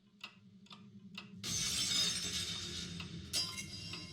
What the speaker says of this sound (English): The sound of cold objects colliding, accompanied by the sound of liquids splattering, can be heard unceasingly in the corridor.